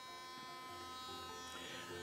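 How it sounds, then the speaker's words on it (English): Electric toothbrush buzzing steadily as it is run along strands of yarn, a close, continuous mechanical hum that holds at an even level throughout with no talking. "I'm going to run my electric toothbrush up and down the strands of this yarn"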